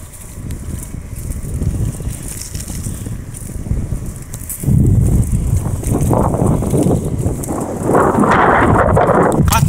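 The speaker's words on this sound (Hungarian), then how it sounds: "Csak a szél fúj." Strong outdoor wind ahead of a thunderstorm buffets the microphone in a continuous loud roar that swells in gusts, with no voices.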